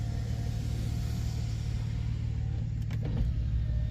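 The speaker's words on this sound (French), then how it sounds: "Vu que j'avais plus de batterie, je reprogramme les fenêtres." Power windows on a 2006 BMW X3 E83 3.0i are reprogrammed after a flat battery: faint electric motor whirs and a couple of soft clicks over a steady low idle rumble, with no talk.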